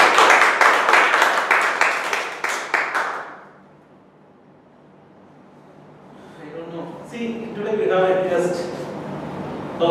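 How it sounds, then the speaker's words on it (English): A Toastmasters meeting room breaks into a big round of clapping that fades out, followed by a quiet pause before people start talking again. "Let us energize ourselves with a big round of applause again."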